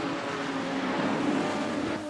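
Production sedan race car at Carina Speedway during a final race, a steady loud engine roar holding for two seconds with a slight swell, close and continuous.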